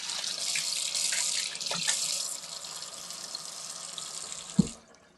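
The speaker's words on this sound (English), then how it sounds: "So I'm going to rinse that off real quick." A measuring spoon, still coated in heavy cream, rinsed under a kitchen faucet: a steady hiss of running water with small splashes that stops with a brief clunk near the end.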